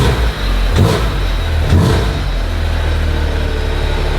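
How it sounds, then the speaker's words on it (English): A BMW Z3M Coupe's exhaust barks through two sharp revs about a second apart over a deep, steady idle rumble, loud and close by. "I can't hear you over the exhaust."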